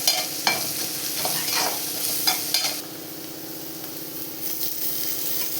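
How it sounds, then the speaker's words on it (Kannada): Chitranna gojju sautéing in a pan with salt and turmeric, a soft continuous sizzle broken by several scraping stirs of a spoon, the scrapes clustered early and again near the end, no voices. "ಚೆನ್ನಾಗಿ ಬಾಡಿಸ್ಕೊಳ್ಳೋಣ, ಹಸಿ ವಾಸನೆ ಹೋಗೋವರೆಗೂ."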